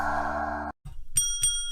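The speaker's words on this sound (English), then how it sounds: "Bell is getting a fair bit of use tonight." A bell rings in short repeated strikes with a clear metallic ring, preceded by a dense burst of other sound that cuts off abruptly.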